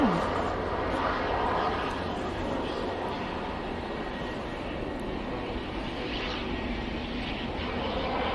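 An ATR turboprop airliner landing at Manchester Airport gives a broad, continuous roar of engine and rushing air that holds steady at moderate distance throughout.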